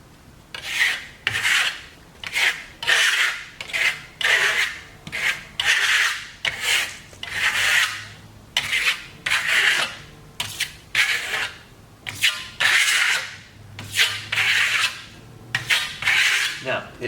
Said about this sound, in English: Just trowel it on.